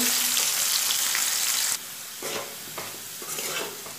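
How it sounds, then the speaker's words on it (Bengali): Potatoes frying in a pan, a bright close sizzle that drops off sharply partway through, followed by softer frying with intermittent scraping bursts as the pieces are stirred. "আলুগুলো দিয়ে আবার নাড়াচাড়া করে দেবো তারপর আলুগুলোকে লাল করে ভেজে নেবো"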